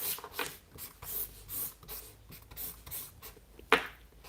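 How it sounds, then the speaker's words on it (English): A pen scratches on paper while a quick schematic sketch of a car design layout is drawn, heard as soft, close, irregular strokes with one sharper tap near the end and no talk. "now I'm going to make a very quick schematic sketch to show"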